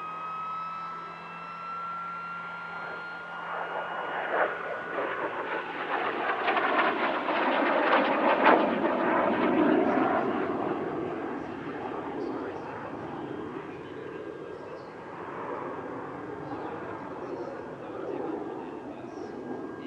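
A Canadair Sabre Mark VI warbird jet flies an aerobatic airshow display, its engine roar rising to a loud pass near the middle and sweeping past before fading to a steady distant rumble. A voice speaks faintly underneath.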